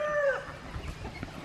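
Guinea fowl on a backyard homestead give a couple of short, loud, shrill calls at the start, then quieter clucking and scratching sounds from the flock follow.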